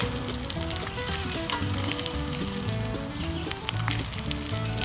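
Corned beef hash and eggs sizzle in a pan over an outdoor campfire, a dense, steady frying crackle held close and loud for the whole stretch with faint stirring.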